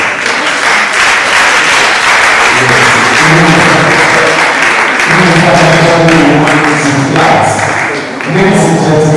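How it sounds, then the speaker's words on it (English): Loud, sustained applause from an audience at a business summit, steady for about nine seconds, with voices and other sounds weaving through the clapping. "So I'd like us to give her a loud round of applause."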